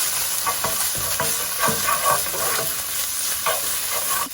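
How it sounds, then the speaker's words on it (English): Ginger garlic paste fries in a hot pan for an egg curry with onions, a loud continuous sizzle broken by repeated scraping stirs close by. "I'm going to add 2 teaspoons of ginger and garlic paste and cook for a few seconds."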